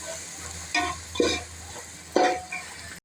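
Mixed vegetables for a coconut-milk brinji sauté in a pan. A soft sizzle runs underneath several distinct bursts of stirring and scraping, and the sound ends abruptly.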